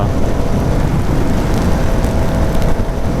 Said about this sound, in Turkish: yağmur bayağı yağıyor kameraya biraz fazla yağmur bu kamera için